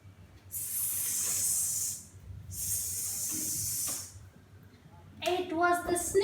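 A storyteller's voice imitating a snake's hiss in a children's story, two long sharp hissing breaths in a row, followed by the narrator starting to speak.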